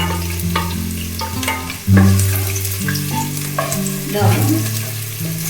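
Chopped onions and green chilies fry in a pan, sizzling loudly and steadily throughout, with stirring scrapes and clinks over the hiss and a brief spoken word.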